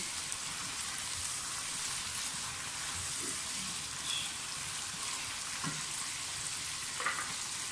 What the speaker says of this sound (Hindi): चिकन हमारा अच्छी तरह से फ्राई हो गया